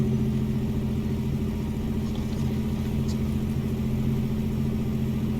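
A wrecker truck in American Truck Simulator rolls downhill on its engine brake, giving a steady, loud low rumble with a dense, rapid pulsing throughout and no talk.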